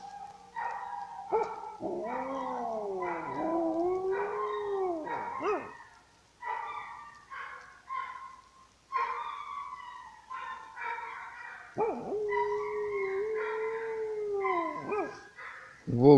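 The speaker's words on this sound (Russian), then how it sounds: "волки вперемешку с собаками воют." A group of wolves and dogs howling together in the mountains, long wavering howls overlapping and rising and falling, with brief pauses between bouts.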